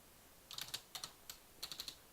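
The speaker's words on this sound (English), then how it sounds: "what is he typing here?" Computer keyboard being typed on while entering Arduino loop code, quiet close clicks in short irregular clusters with brief pauses between, no voices.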